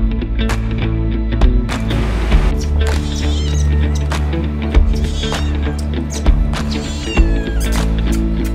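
A cat yowls and meows insistently for food on a terrace in Dubai, several close, drawn-out cries repeating over a steady background hum.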